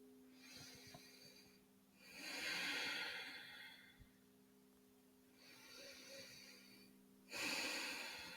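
Slow, deep breaths drawn in and out through the nose during a yoga session, a few long airy swells rising and fading, close and quiet over a faint steady hum.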